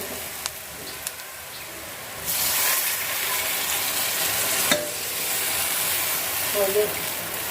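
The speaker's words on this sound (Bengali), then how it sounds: "এখন আমি হালকা একটু ঝোল দিয়ে দিব, অল্প একটু।" A little broth is poured into a pan of taro fried with spices for a hilsa fish curry, and the quiet scraping gives way to a sudden, steady loud hiss of sizzling liquid that carries on to the end.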